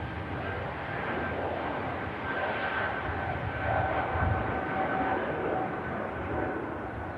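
Swiss flight 220 passes at an airport, a faint, steady, distant jet roar that swells slightly midway and then holds.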